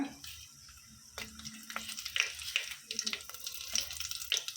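Panch phoron whole spices frying in hot oil, with a steady sizzle, crackling spice pops and utensil stirring close by, some water-like hiss in the mix.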